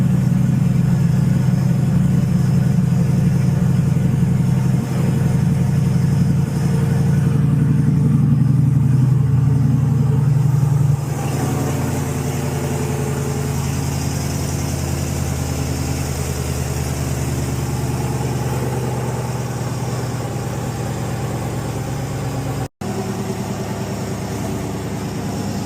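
A Corvette C8 with a Borla Atak exhaust idles loudly and steadily with a deep, rumbling exhaust tone that shifts slightly lower partway through, close by and continuous, with a check engine light on.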